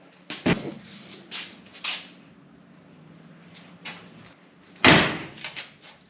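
A rebuilt early Toyota Land Cruiser 40 series ute door with new rubber seals swings shut with a solid, muffled thud, followed by a few lighter handling sounds and a second firm close.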